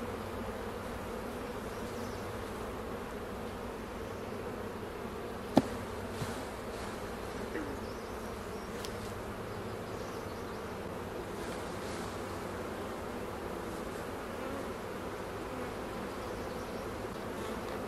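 Honey bees being shaken off hive frames during a colony split hum in a steady, continuous buzz, close and moderately quiet, broken by one sharp click midway.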